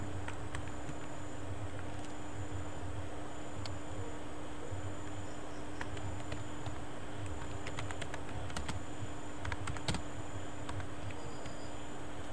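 Steady, faint key clicks from a computer keyboard as a search keyword is typed in, a quiet run of taps over a constant low electrical hum with no talking.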